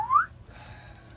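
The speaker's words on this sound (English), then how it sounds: "Slide whistle up." A slide whistle sweeps quickly upward in one short, bright glide at the start, then fades into a quiet background hum.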